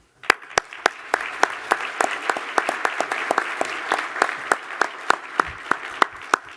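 A room of guests at a breakfast event clapping, with sharp individual hand claps standing out above a continuous wash of applause throughout.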